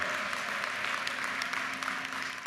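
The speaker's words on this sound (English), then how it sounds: "How about another round of applause" A ceremony audience applauds two honored lawmakers with steady, dense clapping, heard from within the crowd and continuing without a break.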